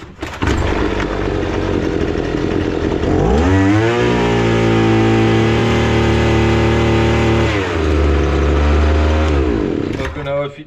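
A petrol Datsu brush cutter engine runs loud and continuous, revving up around the fourth second and holding a high, steady idle before dropping back near the end, with no talk over it.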